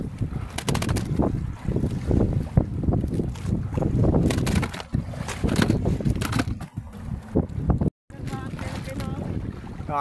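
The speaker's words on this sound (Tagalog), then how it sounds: "Medyo mahangin po ay malakas." Strong wind buffets the microphone on a boat at sea during a fishing trip, a loud continuous roar with gusting swells, while people talk over it throughout.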